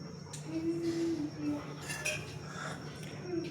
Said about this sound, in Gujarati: તેને પણ આપણે ચમચી વડે થોડું હલાવીશું